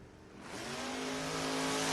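Drag racing cars, a Chevrolet S10 and a Camaro, launch off the line with a sudden surge of engine roar that climbs and holds loud for a couple of seconds.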